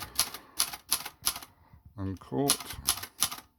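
A Silver Reed typewriter has its keys struck in quick bursts of sharp, close mechanical clacks, with a short spoken phrase between the two runs of typing.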